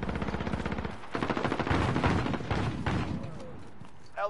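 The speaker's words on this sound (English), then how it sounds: "Just camping with shotguns." Rapid gunfire in an online shooter game, a dense burst of close, loud shots lasting a few seconds before tapering off, with game voice lines faintly underneath.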